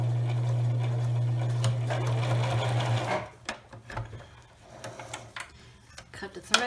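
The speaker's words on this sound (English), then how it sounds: "Okay, I'm going to start to sew, back stitch, and the line that I mark is my guide to sew that straight line." A sewing machine stitches and back stitches along a marked line on an eyeglasses pouch, running steadily and loudly for about three seconds before stopping, followed by quieter handling clicks and thread noises.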